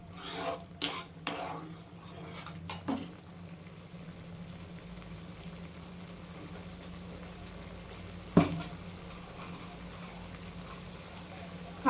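Peanuts cooking in a pan with oil, a low steady sizzle with a few clinks and scrapes of stirring early on and a sharp knock near the end.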